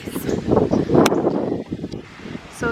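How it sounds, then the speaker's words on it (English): Wind gusts rush and buffet across the microphone outdoors by a swimming pool, a broad rustling roar rising and falling, with a brief voice in the middle. "It got really windy."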